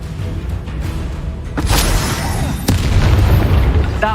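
Confringo fire spell blasts in the Hogwarts Legacy video game, two loud booming bursts over a dense, continuous rumble of combat noise, no talking.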